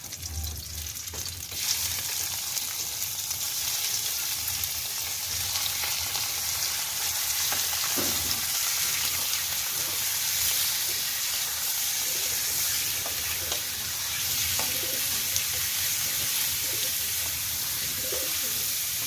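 Eel, called malabanos, fries in a pan with ginger, giving a dense, continuous close sizzle with occasional stirring clinks and faint bird cooing in the background.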